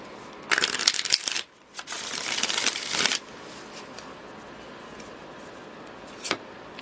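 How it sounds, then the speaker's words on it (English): A deck of tarot cards is shuffled close by in two quick riffling bursts, crisp papery flutters separated by a short pause, followed by quiet and a brief final flick. "One more shuffle."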